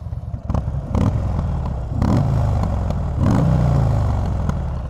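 A Buell XB12S motorcycle engine and exhaust rumbles steadily at close range, with a couple of revving swells and some mechanical clatter over the deep, continuous idle.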